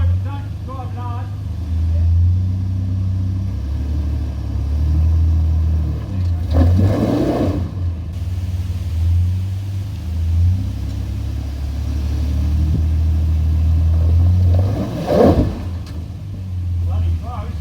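Off-road vehicle on a rocky track in Toolangi: a steady mid-pitched engine drone with low rumble, rising in a couple of brief surges, while people talk over it.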